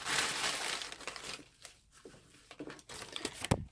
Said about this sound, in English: So I'm just going to get rid of this paper.